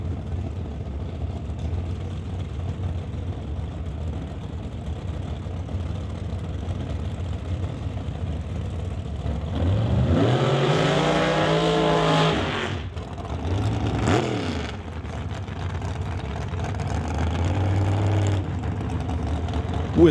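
Drag racing cars at a strip in Mission, British Columbia, engines rumbling at the line, then a loud revving roar with sweeping pitch for a few seconds as a burnout runs, then another short rev, with faint talk.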